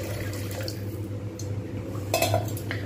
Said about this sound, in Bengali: এইবার আমি এর মধ্যে জল দিয়ে দেবো।